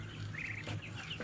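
Ducks kept in a small backyard flock with a swimming pool make a brief, faint burst of calling at a distance.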